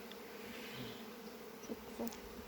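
A steady, low hum of many honeybees buzzing close by in a hive in April, continuous and even, with faint scattered clicks.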